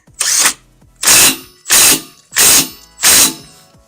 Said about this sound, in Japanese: ナットをつけて、本締めします。